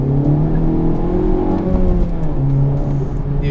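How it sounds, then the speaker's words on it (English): Honda Civic Type R exhaust under acceleration, a loud close engine note climbing in pitch, dipping briefly as if shifting gears, then pulling again with a steady throaty drone. "The exhaust is perfect."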